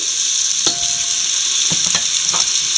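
Marinated beef bones sizzle loudly in a hot pan for a cassava and beef dish, a close, continuous hiss with a few soft stirring knocks and no talking.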